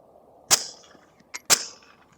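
Two sharp suppressed gunshots fire LAX ammunition about a second apart, each a hard crack followed by a brief fading tail, with a smaller click or pop between them.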